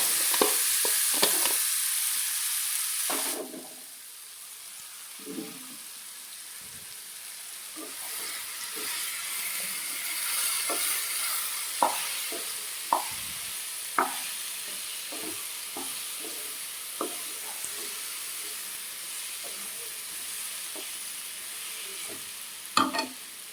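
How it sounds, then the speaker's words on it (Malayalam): Mango pickle being stirred into a hot pan after the gas is switched off: a loud sizzle at first that drops to a soft hiss, with scattered scrapes and knocks of the spoon against the pan. "അങ്ങനെ ഈ അച്ചാറും ഇളക്കി യോജിപ്പിച്ചിട്ടുണ്ട്."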